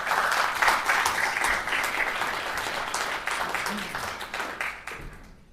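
Audience applause at a historic preservation talk fills the room with dense, fairly steady clapping that gradually thins and fades away toward the end.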